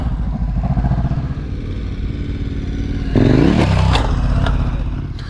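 Adventure motorcycles in enduro training idle and putter close by, then one revs harder as it climbs over a small log, with a few scraping clatters against the wood before the engine settles again.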